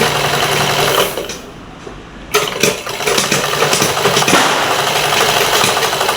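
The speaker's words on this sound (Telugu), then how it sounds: "నార్మల్ మిషన్ మీద కుట్టేయండి" A normal sewing machine stitches a cloth bag, running loud and fast in a buzzing whir, pausing briefly and then starting up again close by.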